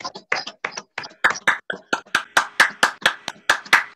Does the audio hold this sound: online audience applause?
yes